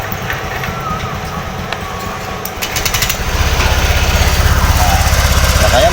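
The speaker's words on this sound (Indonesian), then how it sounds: "Sekarang kita coba tes kasih hidup kembali motornya, bagaimana suaranya sekarang ya teman-teman." A motorcycle engine is started after a bearing adjustment and runs with a steady, loud, rapid putter near the microphone, building from a quieter mechanical clatter into a continuous idle.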